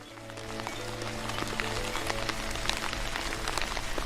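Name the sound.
rain in a video game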